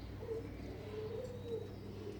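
A small young pigeon, a growing squab, coos softly in a steady low murmur that runs through the whole moment, fairly close but quiet, with faint chirps and no talking.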